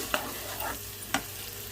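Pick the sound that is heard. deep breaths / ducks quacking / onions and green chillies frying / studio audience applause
onions and green chillies frying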